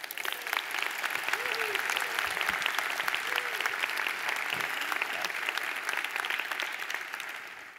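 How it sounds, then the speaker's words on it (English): Sustained audience applause at a plenary session on innovation fills the clip, a dense steady patter of many hands clapping that holds nearly constant, then eases slightly toward the end. "Please join me in giving a round of applause to the social entrepreneurs."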